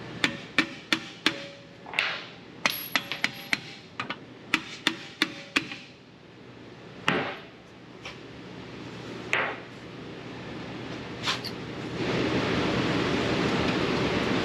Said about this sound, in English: So I'm just going to give it some light taps.